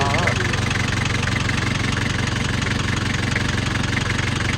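A car engine idles steadily and close by, a continuous low throbbing rumble with an even mechanical rhythm.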